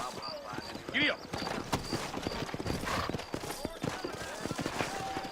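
Horses moving at a trot in the Western video game Red Dead Redemption, with rhythmic hoof clops heard under men's conversation, plus a brief whinny-like call and scattered background noise.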